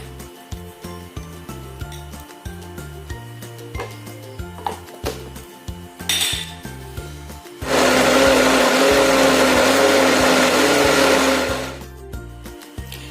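An electric blender grinding dried shrimp whirs loudly for about four seconds in the middle, a steady grinding roar over light background music, then cuts off.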